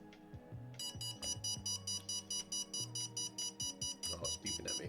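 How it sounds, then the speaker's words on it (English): An electronic device beeps in a fast, regular series of sharp tones, close and clear, over a low background hum and scattered muffled sounds. "Oh, it's beeping at me."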